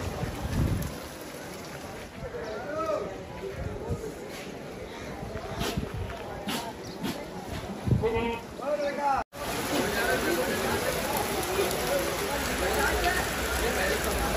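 Rain pouring down on an open-air goat market in Kalyan, with steady rain noise and wind buffeting the microphone, and goats bleating over voices that talk throughout.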